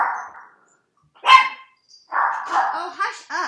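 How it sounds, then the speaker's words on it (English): Dogs inside a home bark in sharp, loud bursts, one close bark followed by a run of several yaps and whining yips, with no voices in between. "I gotta let these dogs out."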